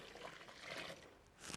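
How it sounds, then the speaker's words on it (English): Four litres of cold water pouring into a pot for homemade laundry detergent, a steady close splashing trickle that swells midway and again near the end. "So I'm just going to pour that right in."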